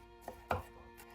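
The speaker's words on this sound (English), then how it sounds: "And then just chop your pepper into fine strips." Two knife strokes on a cutting board slicing a bell pepper, a light tap followed by a firmer chop, close by with quiet kitchen background.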